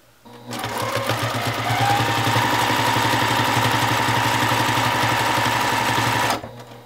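A sewing machine stitches rapidly and steadily during free-motion quilting, a close, even mechanical whir with a fast rhythmic clatter, starting abruptly and stopping after about six seconds.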